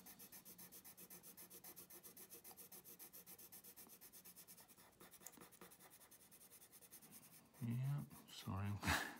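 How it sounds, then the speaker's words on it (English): Rapid rhythmic scratching of a pencil colouring in a drawing on paper, soft and close, with back-and-forth strokes continuing steadily; a voice comes in near the end over the scribbling. "Now I'm going to colour it in with just this pencil"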